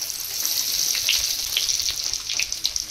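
Whole cumin seeds dropped into hot oil give a steady bright hiss and crackle throughout, close and fairly loud, with scattered small pops.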